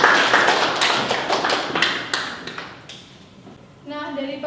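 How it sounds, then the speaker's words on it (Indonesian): A room of people claps for Mas Gading, a dense burst of applause that starts loud and gradually thins out into scattered claps, then a voice starts speaking. "Beri tepuk tangan untuk Mas Gading."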